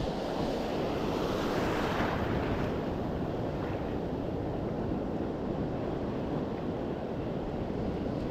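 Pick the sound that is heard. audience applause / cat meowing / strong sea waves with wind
strong sea waves with wind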